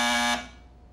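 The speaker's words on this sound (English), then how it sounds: "Now, Dennis, if you need anything, just buzz this buzzer and I'll come running" A cartoon call buzzer is pressed, giving a loud, steady electric buzz that cuts off abruptly after about a third of a second, then a faint decaying ring.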